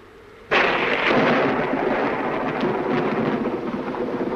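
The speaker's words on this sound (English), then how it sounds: "I love thunderstorms, don't you?" A sudden, loud thunderclap breaks out during a thunderstorm. It then settles into a long rumbling roar mixed with steady heavy rain that slowly fades.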